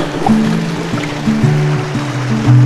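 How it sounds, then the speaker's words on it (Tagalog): Water rushes steadily over a series of mini falls at an old Spanish-era dam in Nasugbu, Batangas, a loud, continuous churning close by. "Nandito tayo sa ibabaw ng series of mini falls."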